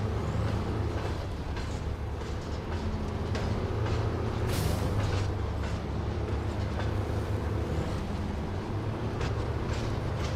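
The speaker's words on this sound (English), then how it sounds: "I love how it's got the railroad sounds like it's going down rails, clicking across all the joints." Heavy truck rumbling through a SnowRunner driving game, its engine drone steady throughout with faint rhythmic clicks like a train crossing rail joints and a brief hiss near the middle.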